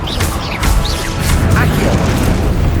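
Spell-casting impacts from a Hogwarts Legacy duel on PS5, dense booms and whooshing bursts crowding each other over a steady low rumble, loud and continuous across the span.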